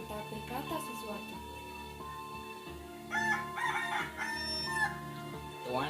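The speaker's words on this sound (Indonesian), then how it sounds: "Tiba-tiba ayam itu berkokok dengan keras serta berkata sesuatu." A rooster crows loudly in a couple of bursts over background music and talking, its calls standing out brightly against the steady accompaniment.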